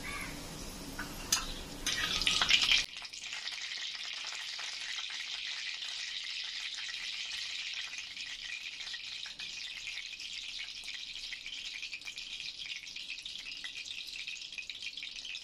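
Panch phoron spices hit hot oil in a kadai, a short burst of crackling and popping followed by a steady, fairly quiet high sizzle that carries on alone.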